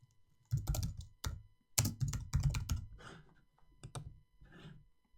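Keyboard typing during a live stream: bursts of close, crisp key clacks in irregular runs with short pauses, fairly quiet overall and with no voices.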